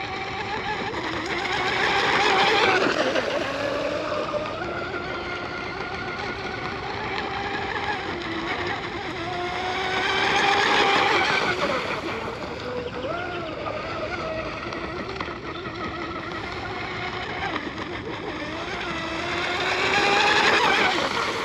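J&R Marine H26 RC hydroplane boat running on water with a new stainless steel prop, its high-pitched electric whine rising and falling in repeated passes, loudest as it sweeps nearby and fading between.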